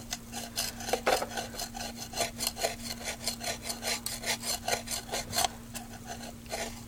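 A hand scraper works over an old barn-find motorcycle part in quick, regular rasping strokes, about two per second, close and fairly loud over a faint steady electrical hum.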